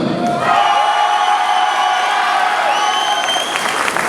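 An audience at a charity event in Algrange applauds steadily, a dense, continuous wash of clapping that holds loud and even throughout, with a few faint raised voices mixed in.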